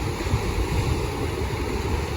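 Surf from the Gulf of Mexico rolls onto the beach under stormy conditions, a steady rumbling wash with some wind noise across the mic and no voices.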